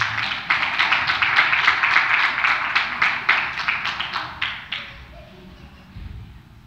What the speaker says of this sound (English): clap your hands as they can.